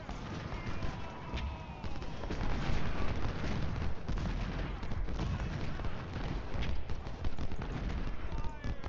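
Close-range artillery fire in the Civil War strategy game Ultimate General: Civil War, rolling cannon booms and crackling musketry layered into a loud, continuous battle din with no clear single shot.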